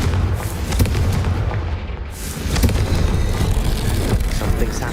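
A Confringo blast spell goes off in a video game as booming, rumbling explosive bursts with gunfire-like impacts over a roughly continuous loud low-end roar.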